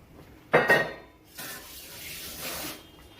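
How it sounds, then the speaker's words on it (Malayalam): Cooked, glazed sago pearls are tipped into a pot with a clatter of a utensil against metal and a wet, spattering pour, followed by softer sloshing and stirring. "ഈ സമയത്ത് തന്നെ നമുക്ക് ചവ്വരി ഇട്ട് കൊടുക്കാം."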